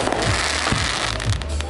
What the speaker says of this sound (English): we're here celebrating a Bora Bora with fireworks